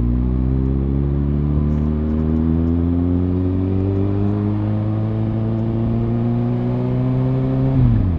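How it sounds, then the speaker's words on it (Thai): Road traffic picked up by a cheap lavalier mic inside a motorcycle helmet, paired with a Zoom H1N recorder, a loud steady engine drone with rising pitch and rushing wind noise, no talk. "คาดว่าน่าจะได้ยินเสียงรถอยู่บ้างนะ"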